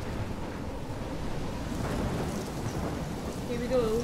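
Thunderstorm in the video game Life is Strange: constant heavy rain and a low rolling rumble of thunder throughout, with a brief voice rising over it at the close.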